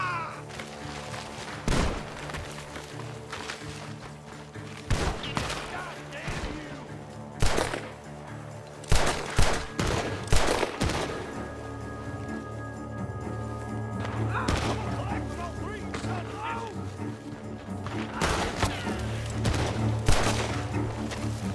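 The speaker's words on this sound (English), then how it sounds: "Gunshots are coming from that barn." Bursts of gunfire in Red Dead Redemption 2 crack out in irregular volleys over a steady low hum, some shots sharp and close, others quicker clustered bangs, coming from a barn.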